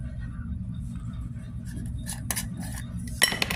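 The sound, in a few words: #11 percussion caps dropped into a small container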